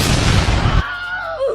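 A cartoon cannon fires with a loud, sharp boom that rings for under a second, then cuts off abruptly, leaving a faint whistling tone that trails away.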